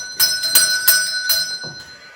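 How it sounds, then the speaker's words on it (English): A door bell from the park entrance rings in a chateau, giving four or five bright metallic strikes that ring out clearly and close, with no talk over them. "we do have the bell for the door from the park"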